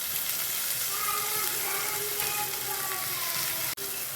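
Sliced onion strips sizzling on high flame in a pan, a steady bright hiss of frying with soft crackles throughout, close and continuous.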